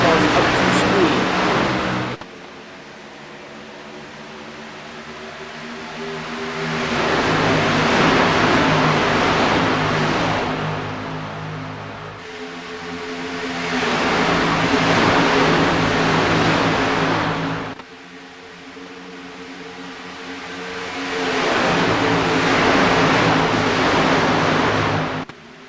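Gen6 stock cars in an iRacing sim race rev up and accelerate in repeated swells, each engine roar building over several seconds before dropping away, loud and droning, with a commentator's voice talking over it.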